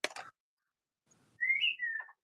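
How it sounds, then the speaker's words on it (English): A person gives a short whistle, followed after a pause by a pet bird answering with two clear, sliding whistled notes, close and alone. "Oh, my bird heard me whistling."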